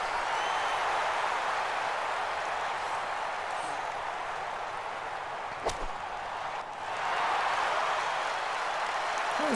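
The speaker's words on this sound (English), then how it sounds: "How does Tony get a louder cheer than me?" A steady crowd roar of cheering and applause in the golf video game EA Sports PGA Tour carries on for several seconds, with a brief sharp click partway through.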